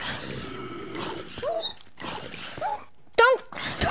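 Short, high whimpering yelps from a Minecraft dog, several brief whines in the latter half over game noise and a player talking.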